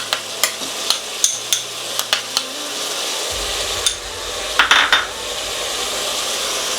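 Ginger garlic paste sautéing in a pan for a lazy country chicken curry, with a steady loud sizzle and a run of rhythmic clinking stirs of a utensil against the pan, then a few scraping knocks.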